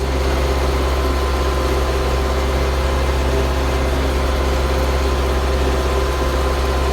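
A farm tractor pulling a cultivator in a field during sugar beet preparation runs with a loud, steady, low rumbling drone that holds unchanged throughout.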